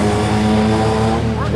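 A one-litre Lotus 7 Series 1 runs at the Brighton Speed Trials, its engine droning loud and steady with harsh buzzing harmonics while a commentator talks over it.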